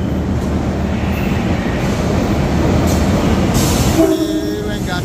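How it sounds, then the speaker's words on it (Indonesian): A commuter train arrives at a station, a steady rumbling roll of wheels and carriages with a faint metallic squeal near the end, fairly close. "Ada kedatangan kereta api apa ini?"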